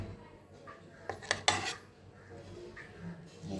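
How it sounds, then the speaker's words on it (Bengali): Food is tipped from a pan onto a serving plate, giving a few quick metal-on-dish clinks and scrapes around the middle over a quiet room, with no speech. "এবারে আমি একটা সার্ভিং প্লেটে ঢেলে নিই।"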